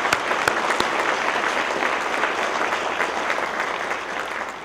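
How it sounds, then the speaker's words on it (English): An audience at a college promise celebration at Long Beach City College claps continuously in a dense, sustained round of applause, with no talking, slowly tapering toward the end. "please join me in giving them a round of applause"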